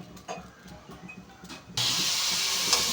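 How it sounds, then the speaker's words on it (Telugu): Sliced onions fry in hot oil in a pan, a faint scattered crackle at first that jumps into a loud, steady sizzling hiss partway through, close and with no talking. "ఉల్లిపాయలు అయితే ఫ్రై చేసుకుంటూ ఉండాలండి మొత్తం ఎర్రగా వేగే వరకు ఫ్రై చేయాలి"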